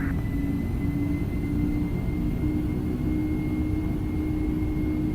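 Boeing 767 freighter jet engines spool up for takeoff in X-Plane 12, a steady, loud, continuous low roar with a faint high whine running through it, holding evenly throughout.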